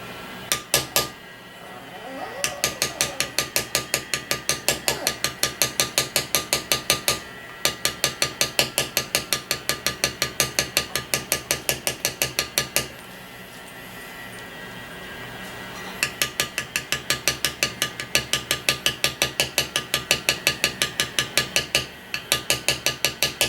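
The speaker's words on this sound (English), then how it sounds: "I'm gonna use this little beveling tool." A small leather beveling tool is struck rapidly and rhythmically with a mallet while working a custom knife sheath for a Buck 119, producing long runs of sharp, evenly spaced taps with brief pauses.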